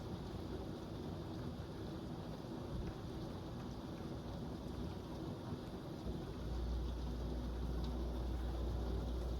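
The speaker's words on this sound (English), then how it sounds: "That is a lot of rain." Heavy rain pours steadily through a thunderstorm, a dense close wash of rainfall with low thunder rumbling underneath and a deeper roll swelling near the end; no voices.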